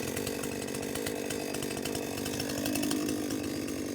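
A chainsaw cuts through a tree stump at a farm, its engine droning steadily and close with a slight rise in load near the end, no voices over it.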